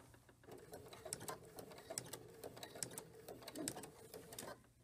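A home sewing machine stitches quilt binding, a seam running out from the corner of the quilt, with a steady rapid clatter of needle strokes at close range and no talk.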